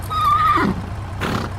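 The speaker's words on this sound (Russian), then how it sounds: "Лошадь" A horse gives a close, loud whinny, a high quavering call that drops into a lower shudder, followed by a short breathy snort over steady background rumble.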